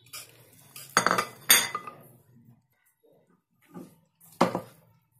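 A spoon scrapes and clinks against a pressure cooker as sweet zarda pulao rice is served, with a few sharp metallic knocks spread out and quiet gaps between them, and no talking.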